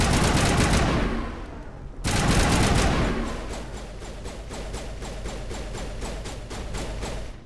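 Loud gunfire in the video game Mass Effect: a dense, sustained burst that settles into a steady run of rapid, evenly spaced shots, close and with no talking.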